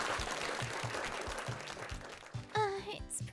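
A group of club members claps together at a casual introduction gathering, steady dense clapping that fades out before a brief voice and a sharp whistle-like tone near the end.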